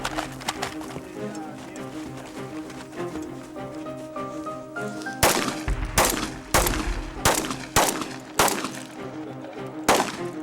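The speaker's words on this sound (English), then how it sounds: "And his shotgun runs as quick as it ever has in the daytime." Rapid shotgun and gunfire at a night three-gun match, a string of loud, sharp near blasts in quick succession over the back half, following a quieter stretch with background talk and music.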